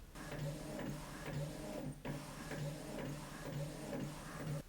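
An Epson WF-2930 inkjet printer printing, a steady mechanical whirring with a regular back-and-forth rhythm of carriage passes and periodic clicks, close and continuous with no talking.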